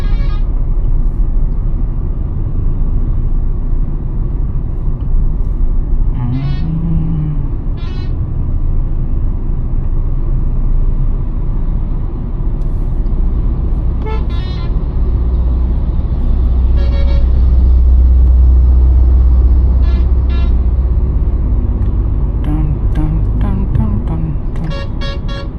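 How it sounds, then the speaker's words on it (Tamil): Steady road traffic rumbles through a rainy drive in an i20, with several short car horn toots scattered throughout, some near and some farther off, over continuous engine and road noise. "இன்றைக்கி கொஞ்சம் டிராஃபிக்காக இருக்குது."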